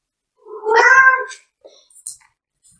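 A domestic cat lets out one clear, drawn-out meow close by, followed by a few faint small sounds in an otherwise quiet room.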